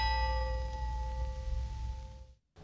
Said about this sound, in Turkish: dang diye bir çan sesi